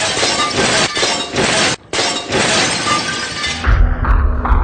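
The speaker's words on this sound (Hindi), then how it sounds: "ऐसा शो जहाँ लोग अपने सर पे शीशे फोड़ते हैं" Glass smashed over a person's head at a staged show: loud, close bursts of shattering and tinkling shards, a short pause, then heavier low thuds and clinks.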